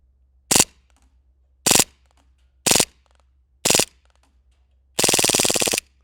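An airsoft M9 pistol fires on full auto: four short sharp bursts spaced about a second apart, then one longer rapid rattling burst empties the rest of the magazine, loud and close.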